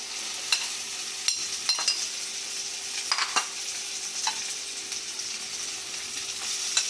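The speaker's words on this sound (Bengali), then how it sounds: "এবার কিমাটা দিয়ে দিই।" Chicken keema tipped into frying masala sizzles steadily while a spoon scrapes and knocks against the pan in occasional sharp strokes, with no talking.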